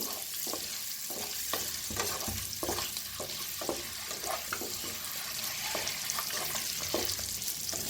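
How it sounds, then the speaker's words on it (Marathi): Eggs fry in a pan with chili powder and salt, a steady bright sizzle broken by soft scraping stir strokes every half second or so, heard up close. "तर छान असे अंडे फ्राय करून घेऊया."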